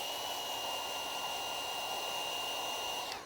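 A heat gun blows a steady, loud, close hiss of hot air with a constant whine over paint protection film on a car, cutting off abruptly near the end.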